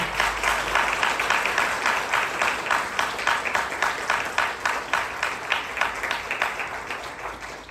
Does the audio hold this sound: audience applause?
yes